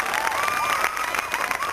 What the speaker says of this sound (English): a huge round of applause for all of yourselves